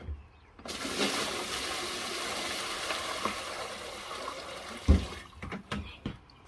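Five gallons of water pour steadily into a bucket for mixing an eco wood treatment for beehives, a continuous close gushing that stops after several seconds, followed by a few thumps and handling noises.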